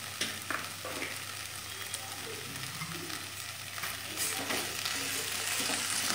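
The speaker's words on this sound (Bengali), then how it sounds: "ভালো করে মিশিয়ে নিচ্ছি মশলা।" Vegetables with salt and turmeric sizzle steadily in a frying pan for moong dal with potato, cauliflower and peas, while a utensil stirs and scrapes the spices in with repeated scraping strokes close by.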